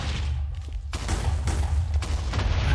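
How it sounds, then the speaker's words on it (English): In Minecraft, eleven TNT blocks set one block apart go off in a quick run of booming blasts, a rapid string of loud thuds and crackling bursts that overlap into a rumbling barrage. "Placing 11 pieces of TNT 1 block apart creates an explosion that looks a little bit like this."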